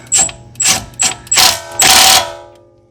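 A hand ratchet tightening suspension link bolts on a Toyota GR Corolla fitted with Racer X links. Five loud, close bursts of rapid clicking come in a steady rhythm, the last one longer before fading out.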